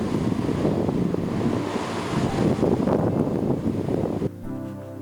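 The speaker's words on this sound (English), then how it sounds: "there's a lot of water going down the river" River in March running high with strong flow near Flatford Mill, a dense continuous rush of water with wind buffeting the microphone, loud and steady before dropping suddenly near the end.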